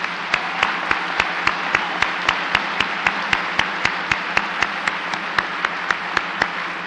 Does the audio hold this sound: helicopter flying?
no